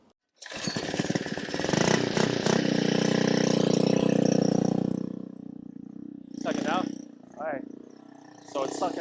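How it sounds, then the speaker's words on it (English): Pump running while maple sap is pumped into a container: a loud, steady motorised drone starts abruptly and holds for several seconds, then drops away, followed by short bursts of talk nearby. "Once we get this all going, I'll show you it pumping."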